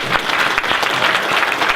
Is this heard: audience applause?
yes